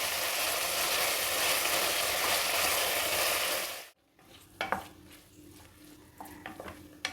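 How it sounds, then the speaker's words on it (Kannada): Capsicum frying in a little oil hisses loudly and evenly for about four seconds, then the noise drops away to quieter scraping and clinking from a spoon and pan. "ಕ್ಯಾಪ್ಸಿಕಮ್ನ ಸಾಕಷ್ಟು ಫ್ರೈ ಮಾಡಿದ್ದೀನಿ"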